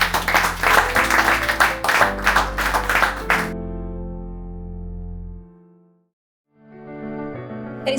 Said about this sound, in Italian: Con un applauso per tutti i partecipanti un'altra volta.